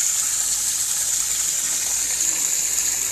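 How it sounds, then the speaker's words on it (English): Water pours steadily into the tub of a microbubble bath machine, a continuous close gushing hiss without pauses. "I'm still adding water."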